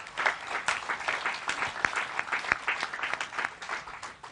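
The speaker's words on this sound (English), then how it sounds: "If you can join me and give them a round of applause." A seated audience gives a steady round of applause for trainers at an organisational gathering, many hands clapping evenly at moderate loudness with no speech over it.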